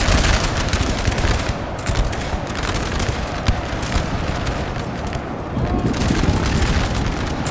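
Musket volleys in a winter battle in Napoleon Total War multiplayer, dense crackling fusillades and booms rolling on without pause, with someone talking over the din.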